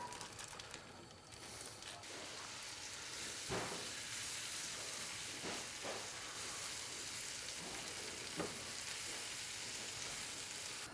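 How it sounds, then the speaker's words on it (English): Onions, mushrooms and butter sauteing in a pan for a sous vide steak, a faint, steady sizzle with a few soft clinks and stirring taps. "we're gonna take the onions and the mushrooms and the butter and go saute that up"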